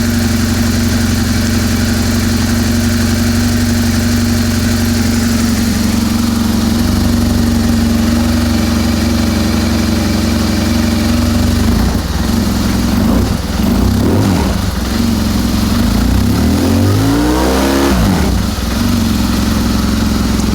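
A BMW R1200GS motorcycle engine idles loudly and steadily nearby, a constant low rumble with a few brief wavering surges toward the end.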